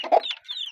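A plump hen in a small home zoo gives a few quick clucks close by, a short burst of throaty notes followed by a higher drawn-out call, with no talking.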